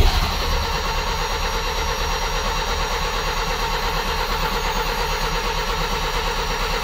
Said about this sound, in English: Now listen to me crank it for 10 minutes.